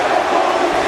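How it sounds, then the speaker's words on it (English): A WWE 2K video game arena crowd roars wildly in a continuous, loud wash of cheering, brief and unbroken. "This LAW crowd is on its feet, is going absolutely insane."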